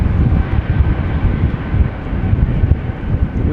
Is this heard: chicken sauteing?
no